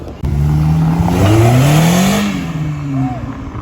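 A Ferrari F12 Berlinetta supercar arrives on a Toulouse street, its engine revving loudly and then sweeping up in pitch as it accelerates close by, before the roar tapers off.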